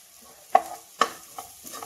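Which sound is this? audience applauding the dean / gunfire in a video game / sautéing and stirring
sautéing and stirring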